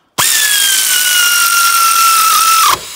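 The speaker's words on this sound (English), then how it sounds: "I'm gonna go ahead and install it with this air tool." Air tool driving a timing chain bolt on an R53 Mini Cooper S, a single loud sustained high whine that starts abruptly, holds steady with a slowly falling pitch for about two and a half seconds, then cuts off.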